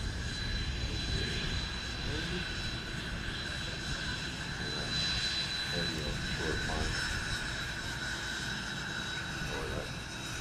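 A plane's engine drones at a Music City STOL short takeoff and landing event in Gallatin, Tennessee, a steady distant hum with a high whine over constant outdoor background noise.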